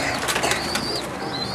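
Pet pigeons of Sialkot breeds cooing up close in a loft or cage, with soft throaty calls and occasional higher chirps over steady background rustle.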